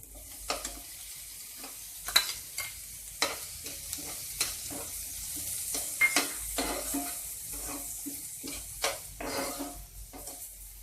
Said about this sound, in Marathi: कांदा असा परतून घ्यायचा. थोडा लाल झाल्यानंतर त्याच्यामध्ये टोमॅटो टाकायचा.